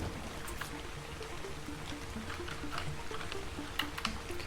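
Rain in the video game ARK falls as a steady, soft patter of drops with scattered sharper taps, faint and continuous throughout, with no voices.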